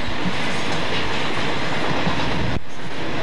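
A train rumbles loudly past on a railroad track with a steady clatter of wheels, close by and alone, ending in a brief break.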